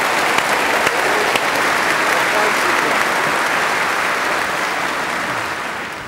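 A studio audience at a German TV entertainment show claps loudly and continuously, with thick, even applause that fades slightly toward the end.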